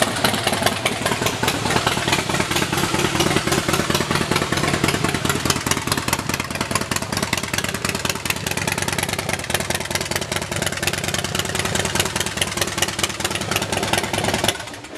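A 2016 Harley-Davidson Softail Slim S with a Screaming Eagle 110 cubic inch V-twin idles close by, a loud, steady, lumpy rumble with rapid pulsing throughout, cutting off at the very end.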